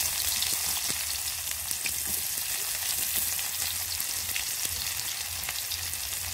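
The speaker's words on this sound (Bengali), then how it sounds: "পেঁয়াজটা খুব ভালো করে ভেজে নেব।" Chopped onions fry in a pan with dried red chilli and whole cumin, giving a steady, close, hissing sizzle that carries on unbroken with no talking.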